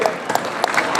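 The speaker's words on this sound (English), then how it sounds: "Let's see everybody clap." A crowd at an Indian American community night in New York claps along, with brisk, uneven individual claps standing out over a busy background.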